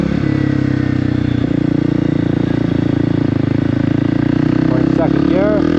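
Motorcycle engine running steadily and loud as the rider pulls away and shifts up, the pitch rising and sweeping upward near the end as revs climb with each gear change.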